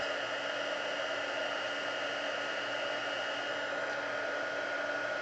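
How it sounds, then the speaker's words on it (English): A heat gun blows hot air to heat-set embossing on a graduation hat craft, giving a steady, even, close whooshing hiss with a faint motor whine throughout and no talking. "Get my heat gun here. And we'll heat set that."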